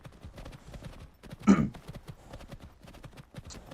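Quick, soft hoofbeats of a horse in a video game (Skyrim LoreRim modpack) patter in a rapid galloping rhythm, with one louder thump midway and a faint voice in the background.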